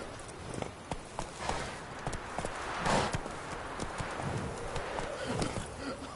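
Roach, the horse in The Witcher video game, gallops with a quick, steady run of hoofbeats over a busy game background, fairly close and moderately loud.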